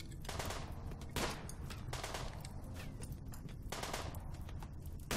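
Gunfire in Rimworld crackles in rapid, repeated bursts of small-arms shots, a busy volley of close reports running throughout.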